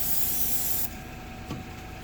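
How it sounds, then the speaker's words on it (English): Airbrush spraying paint onto a Tamiya M8 Greyhound scale model, a steady close hiss of atomized spray that cuts off abruptly partway, leaving a softer faint background with a brief light knock. "I'm spraying about"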